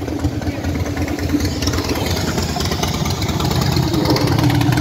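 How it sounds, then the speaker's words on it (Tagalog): A motorcycle engine passes on a street in the Philippines, a loud steady rumbling drone that fills the whole stretch with broadband road noise. "Wow, ganda ng motor, oh."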